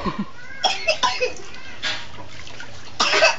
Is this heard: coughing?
yes